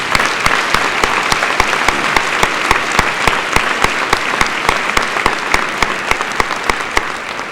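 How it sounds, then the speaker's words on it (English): A graduation audience applauds scholarship students at a high school ceremony, with steady, dense clapping that carries on for several seconds. It sounds like a broad hall full of hands, with a few sharper claps standing out near the front. "Please give those students a round of applause."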